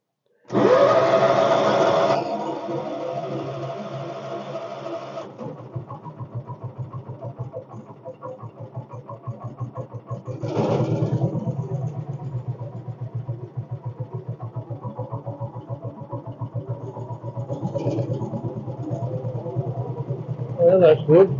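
An old winter tractor engine cranks with a loud starter whir, catches, then settles into a steady low idle with a rhythmic mechanical pulse, while people talk nearby.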